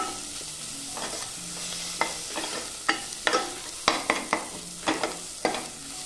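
Ginger garlic paste and spices frying in oil, a steady broadband sizzle broken by about a dozen sharp scraping clinks of a spatula stirring against the pan, with no voices.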